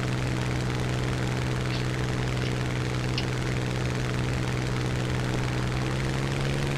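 Hawker Typhoon fighter engine in War Thunder, a constant loud propeller drone with no one speaking, steady from start to finish.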